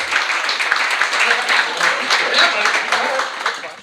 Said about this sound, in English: Y'all give him a round of applause.